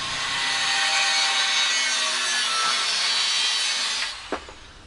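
Hand sawing through a plate for the frame rails of a homemade short-wheelbase recumbent bike, steady continuous rasping strokes close up for about four seconds, then stopping with a brief knock.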